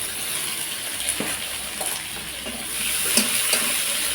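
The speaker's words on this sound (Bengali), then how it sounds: "এখন এর মধ্যে দিয়ে দেব পেঁয়াজ কুচি আর কাঁচা লঙ্কা কুচি।" Chopped onion and green chili fry in hot oil, giving a steady, close, hissing sizzle with occasional stirring knocks throughout, with no voices.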